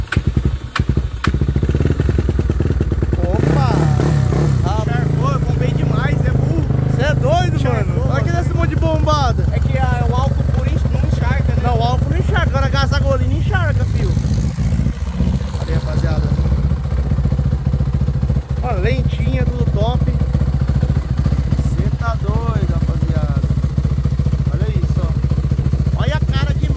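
A Honda Twister motorcycle with a 79 mm big-bore kit idles after a cold start, a loud, steady low engine throb running throughout beneath near conversation.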